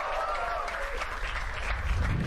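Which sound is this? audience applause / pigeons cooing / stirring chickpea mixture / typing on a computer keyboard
audience applause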